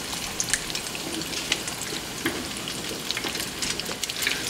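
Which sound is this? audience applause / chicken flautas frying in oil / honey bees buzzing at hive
chicken flautas frying in oil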